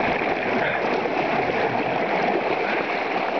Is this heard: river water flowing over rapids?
yes